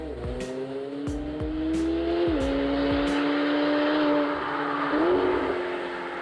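A McLaren 720S V8 sports car drives past with a strong engine note that climbs through the gears, a few sharp shifts and rising revs near and loud over road and tyre noise.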